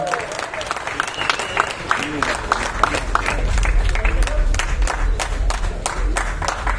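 An audience at a film audio launch event applauds to welcome a guest to the stage, a dense wash of many hands clapping at steady loudness, with a voice speaking over it.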